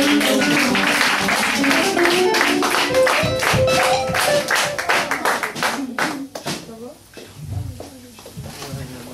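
A church congregation at a Sunday service claps and cheers in praise, a loud, dense burst of many hands that thins into scattered claps with voices calling out over it.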